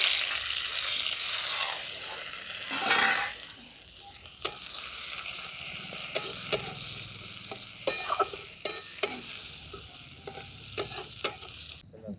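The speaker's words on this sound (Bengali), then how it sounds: "পেঁয়াজটা একটু ভালো লাল লাল করে ভেজে নিয়েছি" Sliced onion and green chilies sizzle loudly in hot oil with panch phoron, a steady broadband hiss that eases after a few seconds into softer frying, broken by sharp clinks of a spatula stirring against the pan.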